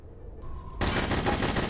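Rapid automatic gunfire in a video game erupts suddenly after a quiet moment, a loud, dense stream of shots with no talking over it.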